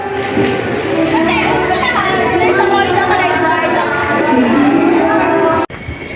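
Children play, shout and chatter excitedly during a family swimming outing in the Philippines, a dense lively mix of high voices close by that continues throughout before a brief cut.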